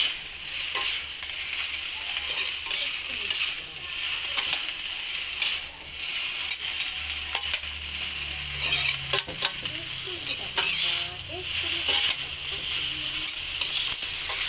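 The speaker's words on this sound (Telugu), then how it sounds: "బాగా రోస్ట్ చేసుకోవాలి" Homemade street-style noodles sizzling steadily as they are roasted in a hot pan, with scraping stirs of a utensil and occasional clinks over a continuous frying hiss, close and fairly loud.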